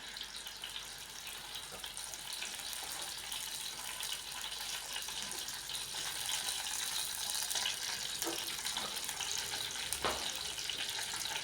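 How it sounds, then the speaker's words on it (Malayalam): Mustard seeds pop in hot coconut oil in a pan, heard as a faint, steady sizzling hiss with a few sharp crackles scattered near the end. "എണ്ണ ചൂടാകുമ്പോൾ കടുകിട്ട് പൊട്ടിക്കുക."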